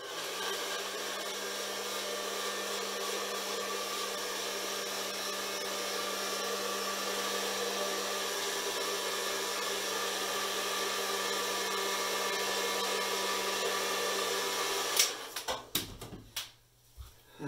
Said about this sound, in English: heat gun's drying the glaze medium, this glaze medium here